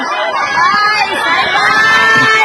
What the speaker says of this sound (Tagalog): Grabing sigawan dyan.